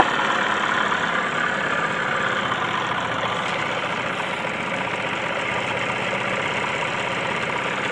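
A 1975 Evinrude 9.9 HP outboard idles on a 1448 aluminum flat-bottom jon boat on a lake, with a steady, close, even rumble and no talking.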